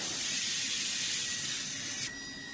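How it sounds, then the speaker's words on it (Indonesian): Cleaner sprayed onto the motor of a Tamiya mini 4WD car with an SFM chassis: a loud, steady, close hiss lasting about two seconds, then cutting off abruptly into quieter background, with no talking. "Kemudian semprot."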